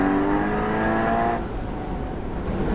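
Porsche Boxster Spyder 981 engine pulling hard through corners, a loud sustained rising note that cuts off abruptly midway, leaving a rougher, lower rumble and road noise.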